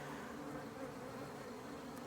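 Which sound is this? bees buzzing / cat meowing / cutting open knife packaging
bees buzzing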